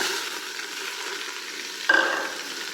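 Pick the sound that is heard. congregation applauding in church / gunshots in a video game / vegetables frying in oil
vegetables frying in oil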